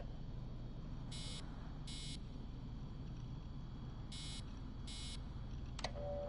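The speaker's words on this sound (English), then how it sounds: "Hello there, DNA reader module. Are you ringing my doorbell?" Electronic doorbell-style buzzer from a DNA reader module inside a modern facility in Assassin's Creed Origins, sounding in short paired bursts over a low steady hum, then a final higher chirp.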